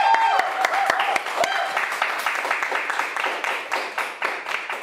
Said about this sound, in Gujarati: પહેલાં તો ખૂબ તાળીઓ સાથે બધાને વધાવી લઈએ.